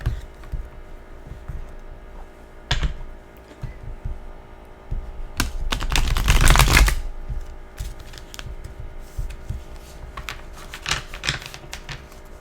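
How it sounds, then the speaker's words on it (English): Tarot cards shuffled close up, with scattered soft taps and clicks building to a dense burst of riffling in the middle, then lighter flicks and card slaps. "So I'm just gonna shuffle these and pull 9 cards for the month."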